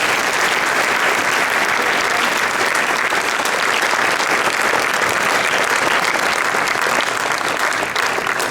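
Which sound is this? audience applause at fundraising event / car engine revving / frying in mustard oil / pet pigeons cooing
audience applause at fundraising event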